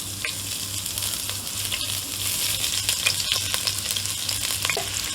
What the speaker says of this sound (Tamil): இப்போ இதில் கேரட்டை நம்ம ஆட் பண்ணி கொடுப்போம்.